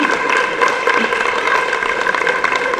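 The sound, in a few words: applause for performer Scott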